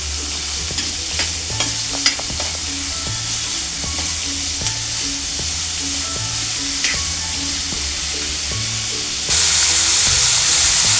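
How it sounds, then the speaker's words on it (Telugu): Chopped onion pieces fry in oil for a tomato and chilli curry, a continuous close sizzle with regular stirring scrapes and clinks, ending with a louder hissing burst. "ఈ విధంగా ఆయిల్లో ఆనియన్ ముక్కలు బాగా వేగాలండి."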